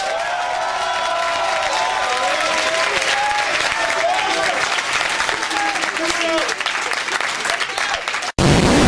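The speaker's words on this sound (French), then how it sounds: "j'aimerais qu'on l'applaudisse" Sustained audience applause at an eloquence competition at a French business school, loud and dense, with voices and some cheering mixed in before cutting off abruptly near the end.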